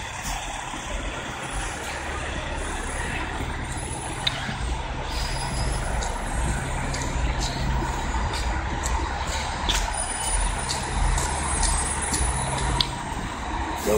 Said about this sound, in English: Bus after bus after bus.